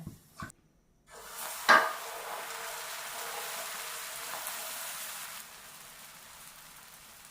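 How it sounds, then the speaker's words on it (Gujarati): A crispy semolina and poha dosa crackling softly and steadily for about four seconds after a brief utensil clatter, then falling to near quiet. "હવે એમાં આ જરાક ક્રિસ્પી થયો છે ઢોસો, જો જરાક બોલે છે આમ"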